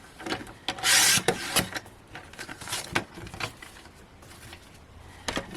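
Gold foiled cardstock is trimmed down for a Christmas card, giving a loud rasping slice near the start followed by lighter rubbing and scraping handling sounds at close range, with no speech.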